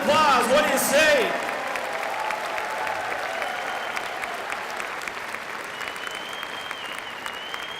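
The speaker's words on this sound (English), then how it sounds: "let's give all of our special athletes, coaches, and adopted team sponsors one more big round of applause" A crowd at a Special Olympics opening ceremony applauds athletes, coaches and sponsors. The clapping is steady and sustained, with a voice and whistling tones at the start and crowd noise carrying on behind.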